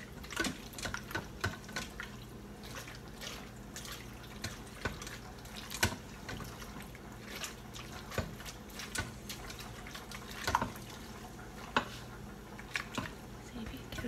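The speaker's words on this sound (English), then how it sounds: "I'm going to go ahead and add the rest of the milk" Milk poured into macaroni and cheese in an Instant Pot makes wet splashing and dripping, with utensil clinks on the pot, heard close up under and between bits of talk.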